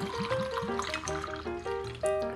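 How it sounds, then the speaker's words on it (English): Bourbon is poured into a jar holding cardamom and figs at a home bar, a short close trickle with a rising, gurgling filling tone. "I'm pouring everything"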